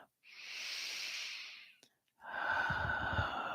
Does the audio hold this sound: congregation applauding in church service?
no